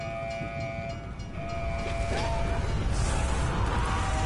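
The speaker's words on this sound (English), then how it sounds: "I hope you are smart enough to avoid being hit by a train." Train rumbling past in the Cold War Zombies map Mauer der Toten, a steady, loud rolling roar with tonal horn-like lines that swells and holds through the whole stretch, with no talk over it.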